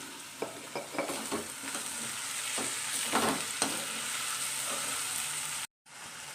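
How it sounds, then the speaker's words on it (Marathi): Onion and tomato with salt fry in a pan, giving a continuous close sizzle with repeated scraping and stirring clicks from a utensil for several seconds, then a brief cut before the frying resumes. "बघा आता अशा प्रकारे आपला कांदा टोमॅटो भाजून झालेला आहे"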